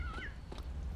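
A cat in the video game Postal 2 gives one short, rising meow up close, with faint game background noise around it.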